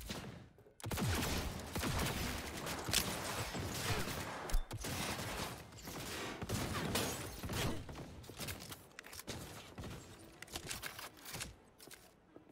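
Cyberpunk 2077 gunfire rattles almost nonstop in dense, rapid bursts of crackling shots within a busy, loud game soundscape.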